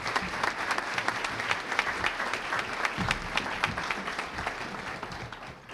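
Steady applause from a crowd at an outdoor groundbreaking ceremony welcoming Senator Brian Williams, dense and even throughout with no voices over it.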